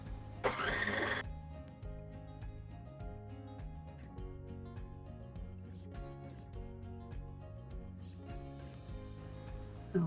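An electric mixer beats Italian cream cake batter with pecans folded in, its motor holding a steady, close whine for about ten seconds after a brief louder rattle at the start.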